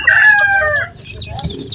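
A rooster gives a loud, close crow that trails off, followed by softer clucking from chickens on a farm where chicks and laying hens are kept.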